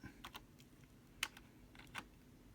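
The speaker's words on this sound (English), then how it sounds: "So I'm typing in HTTP" A computer keyboard clicks as a web address is typed, a handful of quick, sharp keystrokes in short irregular bursts, close and fairly quiet against a low background hum.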